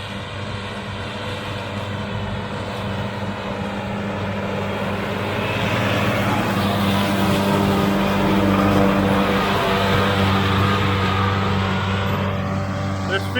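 A tractor mows a standing field with an 11.5-foot cutter, giving a steady droning hum with strong low harmonics that swells a little louder midway, while someone talks nearby.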